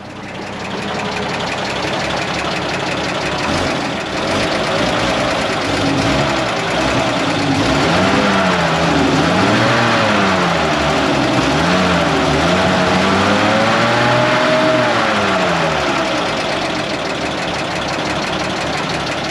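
A Bedford QL truck's petrol engine, a D-Day survivor, runs steadily near and loud for the whole stretch with a rough idle that rises and falls in repeated revving swells, and no one speaks.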